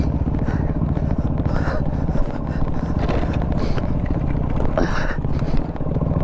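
Yamaha WR250R motorcycle ridden on enduro single track: a continuous close engine drone with rough, steady revving fills the whole stretch, loud and without breaks.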